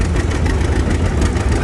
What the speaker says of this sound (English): We got a John Deere G